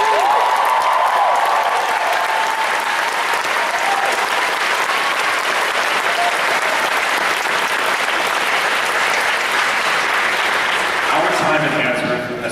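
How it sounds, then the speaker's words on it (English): A large graduation crowd gives roaring applause for teachers and families, sustained heavy clapping throughout with cheering and shouting voices mixed in, loud and continuous until it starts to thin at the very end. "Let's show our gratitude by giving our teachers and families a roaring round of applause"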